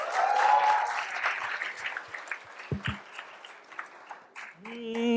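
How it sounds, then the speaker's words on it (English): An audience at the Transcend Moqsh 2023 stage event gives a round of applause for a performer. The clapping is loud at first, thins into scattered claps, then a singing voice and music come in at the end. "Give him a round of applause first of all."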